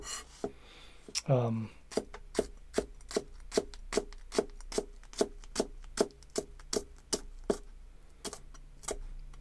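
A knife slices green onions very thinly toward its tip on a cutting board, producing a rapid, steady series of crisp close taps with a brief rustle near the start.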